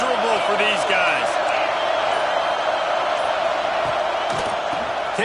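Stadium crowd at a football game, a steady broad roar filling the whole stretch with scattered louder shouts, heard beneath a commentator's continuous play-by-play.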